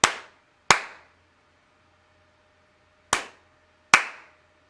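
Sharp hand claps in a quiet room used to trigger a microphone clap switch, coming as two pairs: two crisp claps close together, a pause of a couple of seconds, then two more, each with a short decaying ring.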